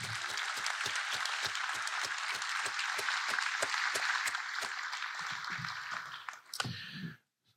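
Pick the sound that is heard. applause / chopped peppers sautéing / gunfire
applause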